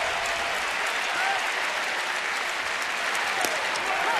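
A crowd of about 27,000 rises and applauds at a night baseball game between St. Louis and Washington, a dense, sustained roar of clapping that stays loud and steady throughout.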